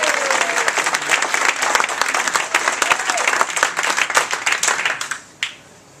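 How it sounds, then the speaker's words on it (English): An audience gives Stephen Moore a big round of applause at an S Factor final, with dense, fast, loud clapping sustained for several seconds before it tapers off and fades. "Please give a big round of applause for Stephen Moore."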